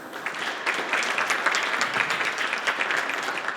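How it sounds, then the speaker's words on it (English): Conference audience applauding the panelists at a high-level event on e-mobility in Africa; many hands clapping in a steady, textured patter at moderate volume throughout, with no speech on top. "Another applaud for all of our panelists"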